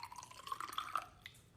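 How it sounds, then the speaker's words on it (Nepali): Water trickles and splashes into the small reservoir of a handheld garment steamer for a second or so, a faint, close pour with a few bright drip-like tones, then it fades. "म पानी हाल्छु अब यसमा"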